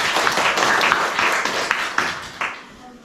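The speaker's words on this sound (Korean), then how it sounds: "우리 다 같이 박수 한번 하겠습니다." A Korean church congregation claps together after a worship song, a loud, dense wash of applause with a few sharper accents that tapers off near the end.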